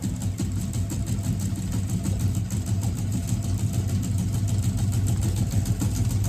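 A steady engine running at a constant speed after being revved back up, with a continuous low rumble and no pauses.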